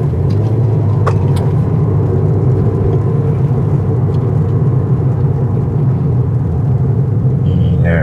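Steady interior rumble of a Toyota Corolla Sport with a manual gearbox on the move, a constant low engine and road drone with a few faint clicks and no talking.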